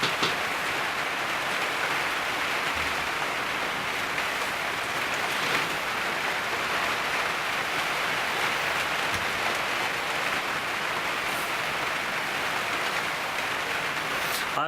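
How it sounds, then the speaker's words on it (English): Heavy rain pouring down steadily, a dense continuous hiss of drops with no pauses, even in level throughout, with a few faint knocks in the background. "The rain's really coming down."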